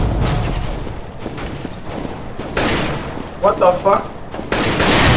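Rapid bursts of rifle and sniper gunfire in Counter Strike crack loudly and overlap, with a man's startled exclamation cutting in partway through.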